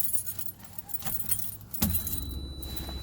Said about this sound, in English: Maybe put the right key in the ignition first.